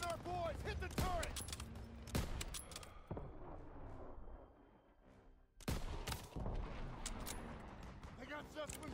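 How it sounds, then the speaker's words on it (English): Machine gun and rifle fire in a WWII video game battle, sharp bursts of shots in clusters with a lull in the middle, mixed with game voices and battle noise. "Daniels, hit that MG."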